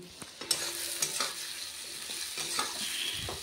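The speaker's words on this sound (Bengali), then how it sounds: "জিরে তেজপাতা ফোড়ন দিয়ে আর পেঁয়াজটা দিয়ে দিয়েছি তেলের উপরে" Onion fries in hot oil tempered with cumin seeds and bay leaf, giving a soft steady sizzle broken by spatula scrapes and taps against the pan; no one speaks.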